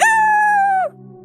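Loud, close crow from a rooster in a children's tale, held as a single sustained cry that breaks off sharply after under a second, leaving a low steady hum.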